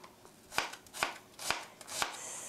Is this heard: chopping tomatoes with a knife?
yes